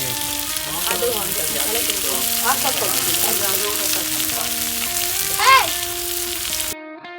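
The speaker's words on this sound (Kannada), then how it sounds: "ಸೊ ಇನ್ನೊಂದು ಕಡೆ ಫಿಶ್ ತವಾ ಫ್ರೈ ರೆಡಿ ಆಗ್ತಿತ್ತು" Fish tawa fry sizzles steadily on a hot griddle, a continuous close crackle with a brief louder flare near the end and faint tonal sounds in the background.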